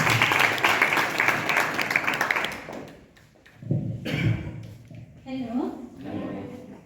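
Audience applause for upcoming musicians fills the first few seconds with dense clapping, then fades out as a voice starts talking into a microphone.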